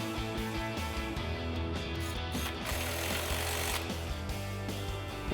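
An 8 mm socket on a power tool fastens a brake line bracket on a Ford F-150's front suspension, making a close, buzzing, rattling drone in steady bursts with brief gaps.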